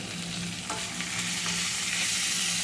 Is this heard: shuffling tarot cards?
no